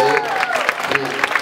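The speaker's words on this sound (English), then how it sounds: "Again, a round of applause." Audience applause at a live band competition event: a short burst of clapping, partly under a voice with sustained tones, moderately loud and close.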